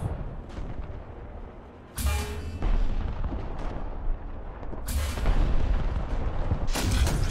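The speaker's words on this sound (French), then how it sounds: "Faire un tir au hasard là sur le Panzer 4." A Brummbär tank's heavy gun fires in War Thunder, taking a shot at a Panzer IV: three booming blasts spaced a few seconds apart, each with a rumbling tail, over low battlefield ambience.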